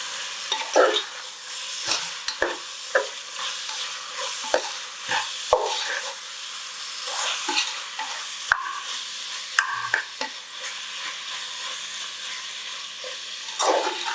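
Garlic, onion, ginger and mint for chicken biryani sauté in a pressure cooker with a steady sizzle, while a spoon scrapes and stirs in frequent irregular strokes close by.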